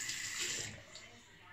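Tap water runs steadily into a sink while a face is rinsed, a close broadband hiss with some splashing that eases off toward the end.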